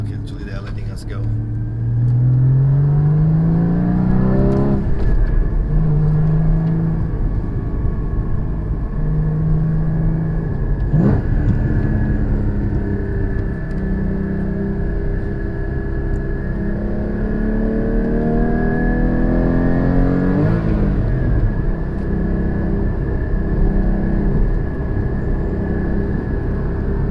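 A 2016 Porsche GT4 engine pulls away on the road, a steady close cabin drone rising and settling through several gear changes, with a person talking over it.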